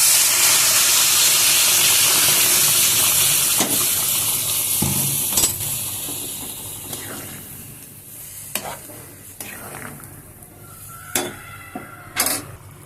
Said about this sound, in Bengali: যখন মশলাটা কড়াইয়ের নিচে লাগা লাগা হয়ে যাবে তখন দিয়ে দেব গরম জল।